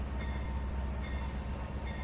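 A locomotive engine in the Trainz 2019 railway simulator rumbles steadily, a dense, continuous low drone with faint rail noise and no talking.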